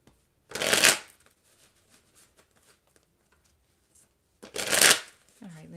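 A tarot deck is shuffled before a card is pulled: two loud, close riffling bursts separated by a few seconds of near silence, with a voice beginning to speak right at the end.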